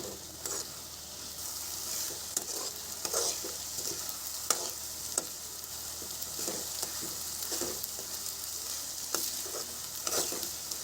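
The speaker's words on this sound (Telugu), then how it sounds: "ఇప్పుడు ఇదంతా దగ్గర పడేంత వరకు ఉడికించుకోవాలి" Semiya kesari sizzles and cooks in a pan as a spoon stirs and scrapes at an uneven rhythm, close up.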